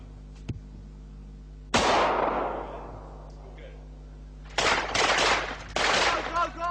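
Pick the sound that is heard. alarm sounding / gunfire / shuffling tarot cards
gunfire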